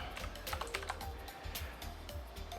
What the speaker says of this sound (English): So, we just type in